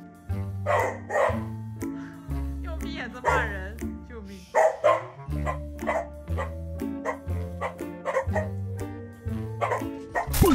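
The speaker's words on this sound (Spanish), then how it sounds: "Estos perros ladran por dos lados." Dogs bark in scattered sharp yelps over a loud, steady background of music, the barks coming in short irregular bursts.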